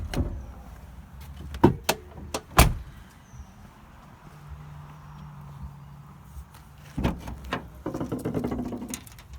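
The hood of a 6.5L diesel service truck is opened: a few sharp metallic clunks and latch clicks near the start, a quieter stretch with a low hum, then more close rattling and handling noises at the end.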